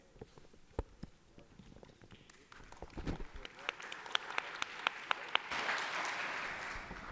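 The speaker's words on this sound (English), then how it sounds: "Thank you for that warm round of applause" Scattered clapping at a conference on urban science starts as a few sharp claps and builds into fuller applause from the audience, with speech faintly mixed in.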